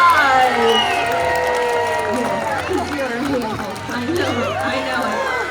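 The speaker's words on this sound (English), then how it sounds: "let's give them both a big round of applause" A fair audience at a dinosaur show cheers and claps in a steady, lively wash of crowd noise, with children's voices and shouts rising over it throughout.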